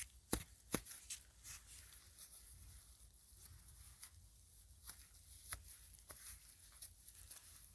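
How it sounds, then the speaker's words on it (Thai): Cassava tubers being chopped, a few sharp knife strikes at the start, then sparse faint chops and scraping over a quiet outdoor background. "มันแซงสับให้มันแซง"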